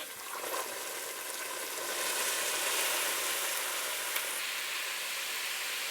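Chickpeas and chili flakes sizzle in a pan while being stirred: a steady, close frying hiss that swells slightly partway through, with faint scraping and no talking.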